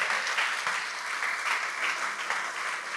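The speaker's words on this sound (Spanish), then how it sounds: "Dele un fuerte aplauso al Señor." Church congregation applauds during a sermon, a full, sustained burst of clapping from many hands that stays even and loud throughout, with no talking over it.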